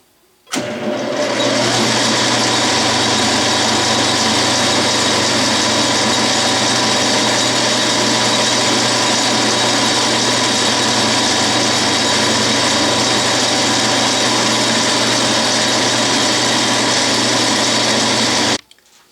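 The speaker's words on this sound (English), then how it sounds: "This will be the last finishing pass. 10 thousandths depth of cut, 2 thousandths feed. I sped up the spindle to 900 RPM." A metal lathe running its final finishing pass at a 900 RPM spindle speed, cutting ten thousandths deep on a bell center punch, gives a loud, steady machine hum and whine that holds unbroken for nearly the whole stretch before stopping.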